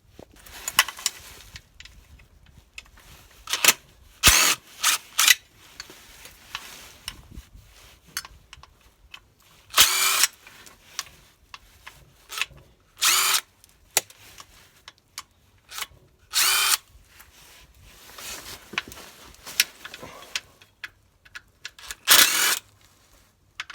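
A power tool whirs in short repeated bursts, undoing the sump bolts on a Peugeot 2008 1.2 PureTech, each burst loud and close with quiet handling noises and gaps between.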